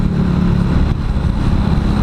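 A motorcycle with a cheap aftermarket exhaust revs loudly and steadily, a deep, throaty rumbling drone that fills the whole moment without pause.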